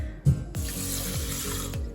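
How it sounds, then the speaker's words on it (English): Water pours in a steady, hissing stream into an Instant Pot holding white rice, close and fairly loud, with a brief splash at the start and no talking. "you're just going to add 1 1/4 cup of water"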